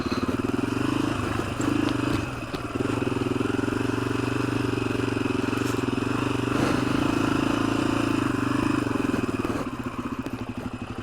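A 1986 Honda XL250R motorcycle rides along a street and yard, its single-cylinder engine droning steadily and close throughout, with rattling clatter over the motor and a slight drop in intensity near the end.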